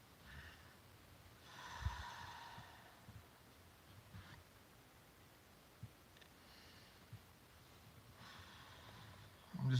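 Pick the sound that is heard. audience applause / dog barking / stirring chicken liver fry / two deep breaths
two deep breaths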